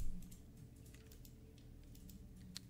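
Computer keyboard keys click quietly while playing Crusader Kings III, a scattered run of light, uneven taps close by with no talking.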